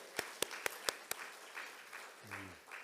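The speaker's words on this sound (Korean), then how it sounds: "우리 박수 한번 하실까요?" A congregation at a church service claps five sharp, evenly spaced times, then falls to a quiet murmur with a low tone near the end.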